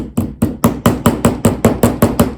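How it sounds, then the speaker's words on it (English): A small hammer taps a piece into place during a junk-journal craft project, ten evenly spaced sharp metallic strikes in a steady rhythm, close and fairly loud with no talking. "And a little hammer. Just gonna hammer it in place."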